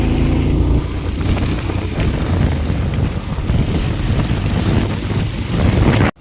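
Cold wind buffets the microphone on a moving motorbike, a loud, steady rumbling roar with gusty low-end flutter that holds for several seconds before cutting off abruptly.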